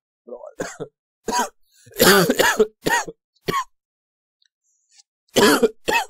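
Several harsh, throaty coughs come in separate bursts with short silences between them, close and loud.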